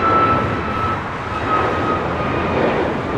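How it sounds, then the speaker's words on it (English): An Air Tahiti Nui Dreamliner jet taking off from the south side at LAX, a loud steady engine roar that stays constant through the short stretch, with no voices. "We've got that Air Tahiti Nui Dreamliner heading to Paris. Should be taking off here on the south side here shortly."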